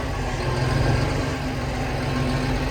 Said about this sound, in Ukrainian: Коротше, тракторець у нас їде.